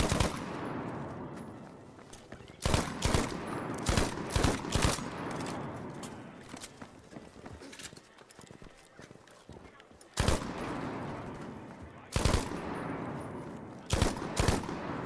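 Bursts of video-game gunfire from a purple-rarity gun, loud sharp shots in uneven clusters with pauses between them, while a player talks over the action.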